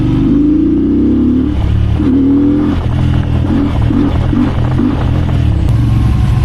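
A VOGE sports cruiser motorcycle engine runs loudly up close with a deep, steady low rumble and a few throttle blips, with no vibration.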